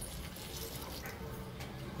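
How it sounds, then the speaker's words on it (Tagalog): Water poured into a cooking pot for chicken pochero, a steady splashing, running fill lasting throughout, close and moderately loud with a broadband hiss. "dadagdagan ko na ng tubig"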